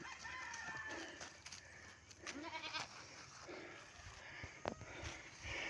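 Goats kept on a farm, several of them pregnant, call over a busy outdoor background with clucking chickens and a crowing rooster, while brief sharp animal sounds break through at moderate distance.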